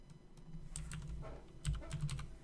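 Quiet clicks from a computer keyboard come in short, uneven bursts of keystrokes, close and soft, with no talking.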